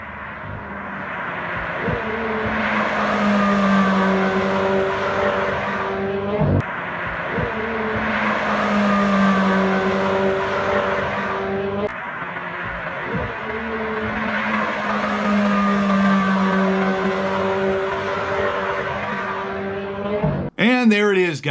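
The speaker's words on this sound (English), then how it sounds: "This is a flat plane crank engine for sure." A C8 Corvette Z06 flat-plane crank V8 engine revs hard in three long, rising sweeps, loud and close, with a brief tire squeal or sharp whine at the end.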